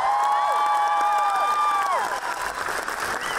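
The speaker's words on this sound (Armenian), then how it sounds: "ձեր ծափահարությունները" An audience at a concert show in the Kremlin applauds, dense clapping filling the hall while sustained musical tones ring over it.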